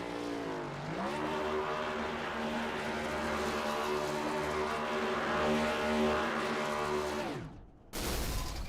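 Race car engine in the iRacing sim, an antique or vintage cup car at Phoenix, revving hard and holding a steady high-pitched drone down the straightaway, loud and continuous before cutting off abruptly near the end.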